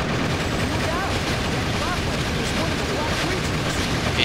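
Rapid gunfire in Shadow the Hedgehog aimed at a tank, a steady dense crackle of shots mixed with game effects and voices, moderately loud throughout.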